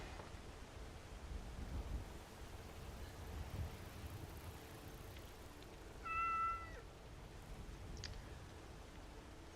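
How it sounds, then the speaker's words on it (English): A cat meows twice in quick succession in the video game Skyrim, a clear mid-loud call over a steady bed of wind and ambient outdoor noise. "What's up, kitty?"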